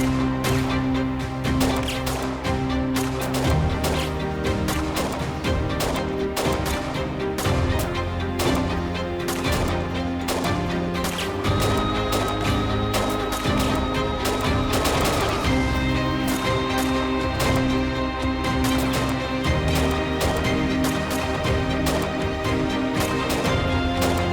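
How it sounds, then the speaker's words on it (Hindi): Rapid bursts of gunfire in a Turkish TV drama crack repeatedly over a dense, dramatic backdrop, shots coming in quick volleys throughout with sustained tonal music underneath. "गोली चलाओ, जिंदा मत छोड़ना इन्हें।"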